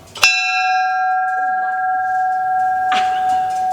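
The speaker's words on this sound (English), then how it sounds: "So they have a bell here, and Susan's gonna ring it." A railroad bell at the Cheyenne depot museum is struck loudly, giving a sharp clang with a long ringing tone that hangs on, then a second strike near the end renews the ring; faint voices are heard faintly underneath.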